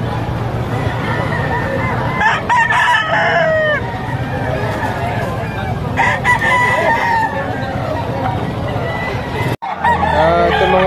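Roosters crowing and chickens clucking at a livestock auction market in Lipa, Batangas, with repeated loud crows from close by over a busy babble of voices and crowd noise.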